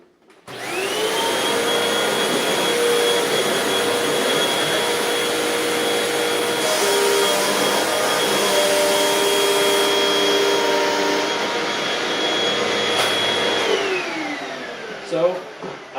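A loud, steady Hoover WindTunnel 2 upright vacuum cleaner motor whines for about fourteen seconds with a faint hum of bristles brushing a bare floor underneath, then spins down to quiet.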